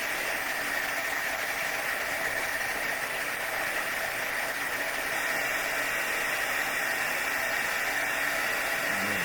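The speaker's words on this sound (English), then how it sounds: "some people will emboss it, heat emboss it from the back" A heat tool blows hot air to melt embossing powder on a stamped Christmas craft project, a steady loud whooshing hum held evenly throughout with no speech.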